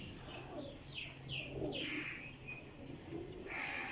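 Large, big-tailed champion flying pigeons coo repeatedly at close range, soft rolling calls overlapping with chirps and occasional wing flutters, with no talking.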